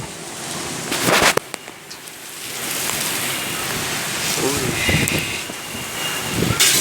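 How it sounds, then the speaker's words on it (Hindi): Strong wind roars across the microphone with a broad, steady rush, mixed with the hiss of rain; a few sharp gusts buffet the mic. "ज़बरदस्त और बहुत तेज़ हवा है, बारिश भी साथ हो रही है।"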